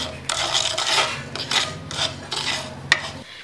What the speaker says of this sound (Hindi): पहले हम मेथी को भूनेंगे